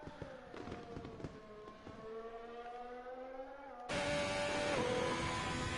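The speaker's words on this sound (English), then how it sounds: "As the fireworks blow up here in the Sakir Desert at the end of the Bahrain Grand Prix." Fireworks pop in a virtual Sakhir desert after the Bahrain Grand Prix in a racing video game, a string of crackles over steady engine drone that swells louder partway through.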